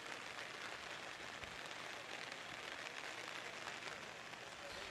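Steady rain falls in the south zone of the capital, heard as a continuous even hiss with no voices over it.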